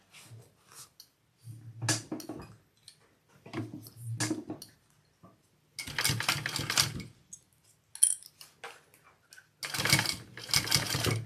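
Sewing machine stitching across fabric at a zipper and O-ring, several separate quick bursts of rapid mechanical clatter with short quiet gaps between, close and fairly soft.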